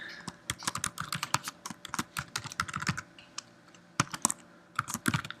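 Rapid typing on a computer keyboard while configuring virtual keypad buttons in home-automation software, a steady run of close, crisp key clicks with a brief pause near the four-second mark.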